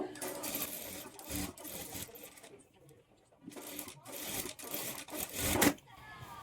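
A sewing machine stitches the neckline of a lehenga blouse in short rattling bursts broken by pauses as the fabric is turned at a corner, with a sharp click near the end.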